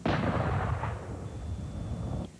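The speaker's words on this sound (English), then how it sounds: "there was a little bit of nervousness in the air when that cannon went off" A cannon firing a blank round, a single booming blast that hits at once and then rolls off into a decaying rumble over about two seconds, loud and close.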